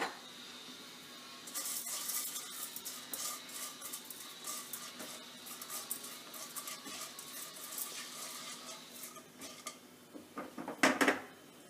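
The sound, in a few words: chana dal roasting in hot oil in a pan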